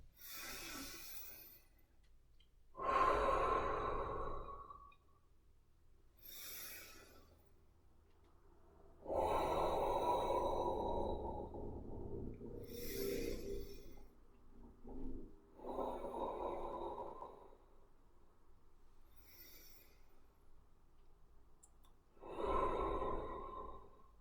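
Deep breathing during qigong practice: several slow, loud inhales and exhales, each a few seconds long and separated by quiet pauses.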